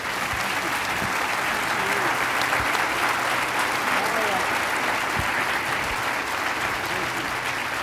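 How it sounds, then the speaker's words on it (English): University audience applauds students at the end of the exam year, a thick, continuous roar of clapping that stays loud and even across nearly eight seconds, with faint voices mixed into the crowd. "And I believe that they deserve applause, a special applause to today."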